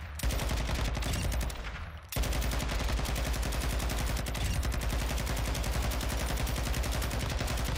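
A Sakin MG38 light machine gun fires in Modern Warfare II, a loud, rapid stream of automatic shots that breaks off briefly near the two-second mark and then runs on unbroken to the end.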